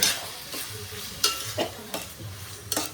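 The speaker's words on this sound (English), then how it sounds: "So let this stir it properly" Mutton with turmeric, red chili powder and ginger garlic paste stirred in a hot pan for curry, a spoon scraping in repeated strokes over a continuous frying sizzle.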